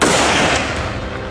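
A boar hunting rifle fired outdoors, one loud blast at the start that rolls into a long fading boom with no voices.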